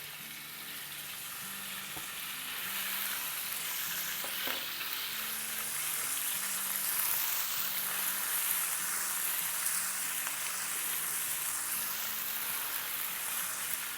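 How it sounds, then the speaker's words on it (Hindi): Mutton keema mince frying over high heat, a steady loud sizzle with stirring scrapes running continuously from start to finish, no voices. "बस इसको हमें जब तक ही फ्राई करना है जब तक कि इसका कलर चेंज ना हो जाए"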